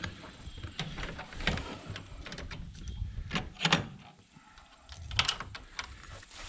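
Wooden rattles, scrapes and clunks as a small door on a movable backyard chicken coop is lifted and handled, irregular knocks and squeaks close by, no voices.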